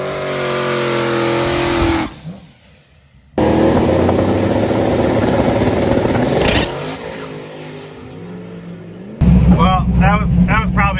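A turbocharged small-block Chevrolet Camaro makes a drag racing pass, its loud engine roaring, cutting out for about a second, then surging back before voices join near the end.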